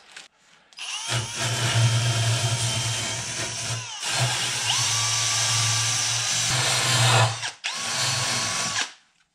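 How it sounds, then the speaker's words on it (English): Power drill in use during rust repair on a 1988 Ford Bronco II, whining loud and close in several sustained bursts with brief pauses, then cutting out abruptly as it dies near the end. "that drill's dead"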